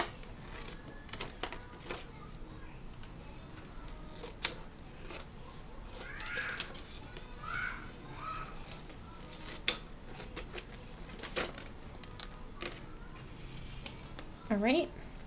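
Scissors snip through a laminated paper dashboard with donut paper piecing, a run of short crisp cuts close by with small rustles of the sheet between them.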